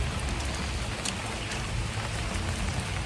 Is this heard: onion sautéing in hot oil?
no